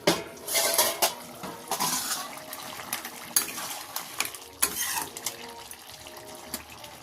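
A pot of crab curry handled on the stove: a series of metallic clanks and scrapes as the lid is lifted and the pot checked, with a steady background hiss and a few sharper knocks, close and moderately loud.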